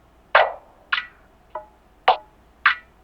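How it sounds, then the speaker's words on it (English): Another percussion loop sample brings five evenly spaced, woody clicks and knocks, crisp and close, each decaying quickly, with one softer pitched tap in the middle. "use another perk loop that sounds like this"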